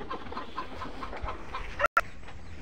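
Tiger breed parent chickens cluck softly on a poultry farm, scattered short clucks and rustling at moderate distance, with a brief dropout near the end.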